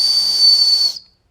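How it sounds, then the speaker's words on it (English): A shrill, piercing survival whistle built into a fixed-blade knife, blown in one steady blast of about a second, loud and close, then cut off into silence. "another little feature that it has, is a survival whistle"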